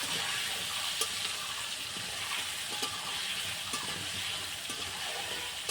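Steady, continuous sizzling of potatoes frying in hot oil, close up, with occasional faint stirring clicks and no talking.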